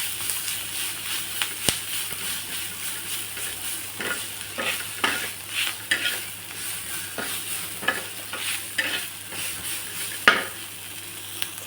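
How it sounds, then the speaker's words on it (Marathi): Cluster beans fry on a tawa with cumin, garlic and crushed chillies, a soft sizzle under repeated close scraping and stirring strokes of a spatula against the pan. "जो तवा शेंगा परतला त्याच्यावर आपण जिरं टाकून परत फ्राय करून घ्यायचं आहे."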